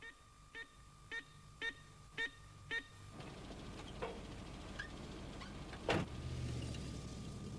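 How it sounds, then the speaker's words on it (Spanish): A computer alarm at a UFO observation post sounds six short, evenly spaced beeps close by, followed by a burst of mechanical noise and a loud sweeping electronic tone. "hace sonar el botón de alarma en el caso de que haya indicios de un aterrizaje"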